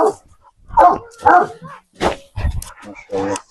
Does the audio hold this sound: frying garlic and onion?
no